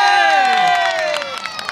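A crowd at a gathering in Bangladesh claps and cheers for a man being honoured, a loud, sustained wash of shouting voices and applause that eases slightly toward the end.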